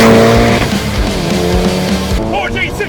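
A Mitsubishi Evo VI with a 4G63T engine pulls away from a standstill, a loud, close engine drone rising in pitch under the cabin, with a faint squeal toward the end.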